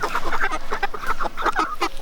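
Ginger broiler chickens and a guinea fowl on a North Idaho homestead give repeated harsh, honking squawks and calls, close and continuous.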